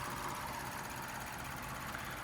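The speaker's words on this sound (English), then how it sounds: "nice and smooth running engine, no odd noises or vibrations" A 2015 Lexus GS350 AWD's 3.5-liter V6 idles with a steady, low rumble and a smooth, even hum that holds without change throughout.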